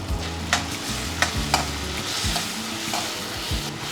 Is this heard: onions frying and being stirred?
yes